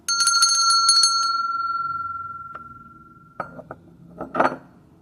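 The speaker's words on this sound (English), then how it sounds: "ring the bell on that" A small bell is struck rapidly several times, its clear tone ringing on and slowly fading, followed by a few scattered clinks.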